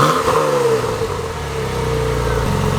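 Porsche 911 Turbo engine fitted with a new throttle body, revving up close and loud then settling toward a steady mid-pitched idle rumble, with no talking.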